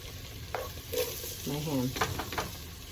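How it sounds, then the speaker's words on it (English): Ham frying in a soup pot gives a low sizzle while a long-handled spoon mixes with a few scraping strokes, soft and close, and a faint voice murmurs briefly in the middle. "as she's mixing, I'm going to go ahead and add my ham"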